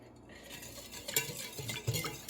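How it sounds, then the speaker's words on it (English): A vegan steak marinade is whisked in a bowl, giving soft, irregular clinks and scrapes of the whisk against the sides, fairly quiet and close, with no voices. "Just whisk it on together."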